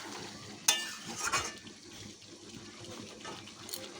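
Chicken kosha stirred and fried in a pan after spiced water is added, a soft steady sizzle with scraping spoon strokes and a sharp clatter near the start, fairly faint with no talking.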